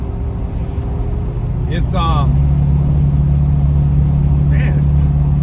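A Porsche 928 on coilovers is driving, with a steady, loud low engine drone and road rumble heard from inside. A voice speaks briefly near the start.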